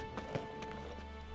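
Horse hooves clip-clopping in The Witcher 3, a few soft, uneven steps close by over a steady game background hum, with no talking.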